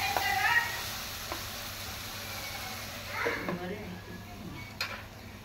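Mushroom curry sizzles in oil in a pan with a steady, soft frying hiss, broken by a few stirring scrapes, heard up close.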